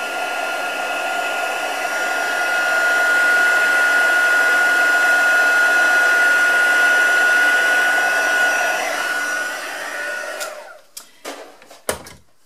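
A heat tool drying Brusho watercolor on card blows with a steady whining roar for about ten seconds, then cuts off and is followed by a few close clicks and handling knocks.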